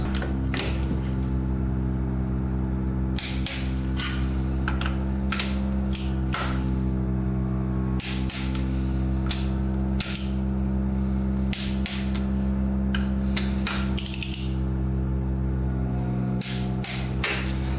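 Bolts on a quad being retightened to 14 foot-pounds, sharp metallic clicks and clacks from a tool repeating at irregular intervals over a steady low hum, close and fairly crisp.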